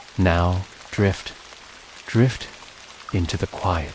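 Steady soft rain hiss runs beneath a calm, slow voice in a sleep hypnosis recording, staying faint and even through the pauses between phrases.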